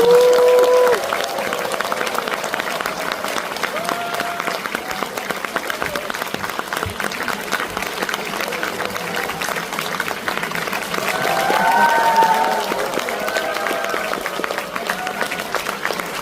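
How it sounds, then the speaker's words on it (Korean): An audience at a book concert in a provincial arts hall in Jeonju applauds loudly to welcome an actor-novelist on stage, dense continuous clapping with scattered cheers and voices, swelling again near the end. "소설가이자 배우, 배우이자 소설가 차인표 작가님을 큰 박수로 모시겠습니다"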